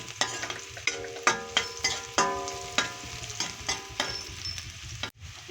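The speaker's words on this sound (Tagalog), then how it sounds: "gigisa ko yung sibuyas" Onion and garlic sauté in hot oil in a pan, a close, crackling sizzle broken by about a dozen sharp clanks of a utensil stirring against the pan, with no talking.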